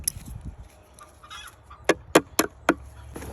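Roosters on a farm, being moved to a new chicken tractor, give a few sharp clucks and squawks in a quick cluster of four or five calls over faint background noise.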